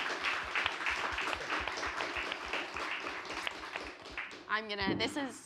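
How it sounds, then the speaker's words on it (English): Audience applause for Satish at the close of a conversation, a moderate, fairly quiet patter of clapping, with a voice speaking over it near the end. "I think, yes, round of applause."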